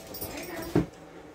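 A dog in a kitchen gives a brief, close whimper, a single short whine rising over faint background sound.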